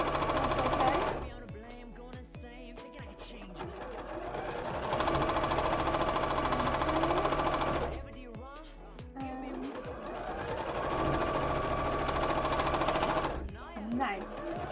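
Sewing machine stitching a cosplay dress in two long runs, a close, fast steady chatter of the needle with brief pauses between, while a person talks over it.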